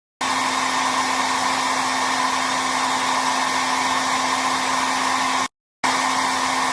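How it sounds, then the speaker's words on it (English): A blow dryer running with a steady, loud whooshing roar and constant motor hum, close up, cutting out briefly near the end before resuming. "Answer. Blow dryer."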